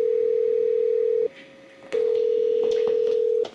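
A telephone ringback tone sounds in two long, steady beeps separated by a pause, loud and close.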